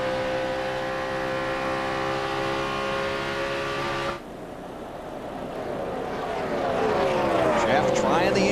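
NASCAR race cars roaring around the track during the 2006 Dickies 500, a steady engine drone with a brief dip, then louder, shifting revs as cars swell past, under a commentator's voice.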